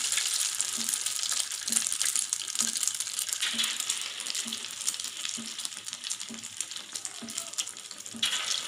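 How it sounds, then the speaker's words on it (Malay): Potato pergedel patties fry in hot oil over a very low flame, giving a steady bright sizzle with a faint regular tapping under it, and no voices. "Okey, minyak sudah panas. Sekarang mari kita goreng."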